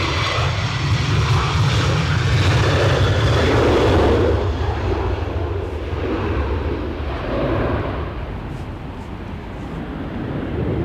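A Boeing 737 jet departs Edinburgh Airport for Oslo in windy weather, its engines producing a loud, sustained roar that peaks early and then slowly recedes into the distance.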